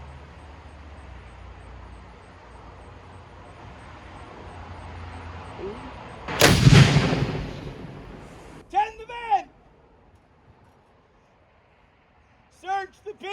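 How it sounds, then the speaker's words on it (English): An 18th-century artillery cannon fires once at an outdoor fort demonstration, a single loud boom that rolls off into a fading rumble; a voice calls out a few brief commands afterward. "what some of those artillery barrages, cannon firings, and whatnot of the 1700s sounded like"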